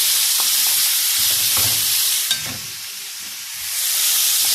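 Colored peppers and sliced tomatoes cook in a pan with onions and spices for chicken shawarma, giving a steady close sizzle with soft stirring scrapes and a clack.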